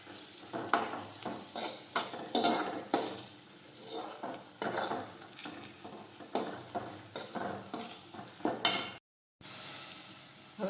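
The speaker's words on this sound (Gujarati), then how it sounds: "હવે આપણે સાતળી લઈશું।" Okra being sautéed with turmeric, Kashmiri chili and salt in a pan at home: a steady close sizzle broken by repeated scrapes and clacks of a spoon stirring against the pan, with no talking.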